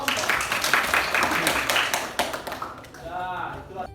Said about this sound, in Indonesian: kalau sudah jelas, tepuk tangan untuk kelompok.